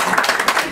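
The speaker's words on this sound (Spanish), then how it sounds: "Un aplauso para ella." An audience gives a short, loud burst of applause at a Spanish-language event opening a cosmetic clinic. The dense clapping is over in under a second.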